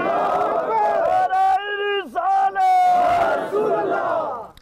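A large crowd at an outdoor religious gathering in Azad Jammu and Kashmir roars a loud, sustained chant in answer to the Naara-e-Takbeer call, many voices shouting together with a brief dip midway before swelling again.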